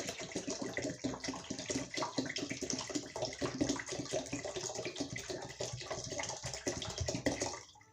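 Water is poured from a 1.5-litre bottle into a soup pot of homemade vegetable soup with browned onion, a steady continuous splashing gush that runs unbroken for about eight seconds, then stops abruptly.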